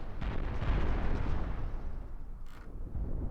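Heavy cannon rounds slam into a ship in the space battle game Cosmoteer, making a dense, continuous rumble of booming impacts. It is loud throughout and dips briefly near the end.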